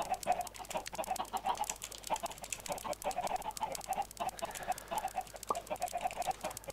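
Minecraft chickens clucking in a steady run of short, repeated calls, fairly faint, with no other sounds over them.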